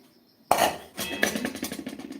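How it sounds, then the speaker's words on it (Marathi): A metal kadhai (wok) set down on a gas stove and handled, giving a sharp clang followed by a few lighter metallic knocks and rattles close by. "आता इथे कढई घ्यायची आहे"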